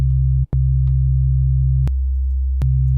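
A loud, pure low sine-wave tone from the NI Massive synthesizer drones steadily, briefly cutting out once and clicking at a couple of points as it continues alone.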